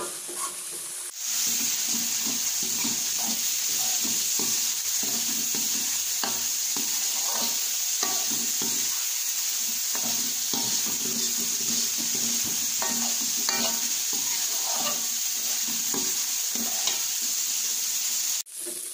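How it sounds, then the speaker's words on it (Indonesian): Galangal, ginger, lemongrass, bay leaves and lime leaves fry in a pan with a continuous close sizzle, broken by scraping and clinking as a utensil stirs them against the metal. "Aduk kembali sampai dia mengeluarkan harum ya"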